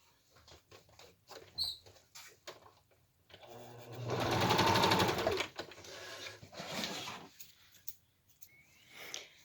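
A sewing machine stitches down the edge of a fabric mask pocket, with short start-stop bursts before one long steady whirring run and then a few more brief spurts, close and clear.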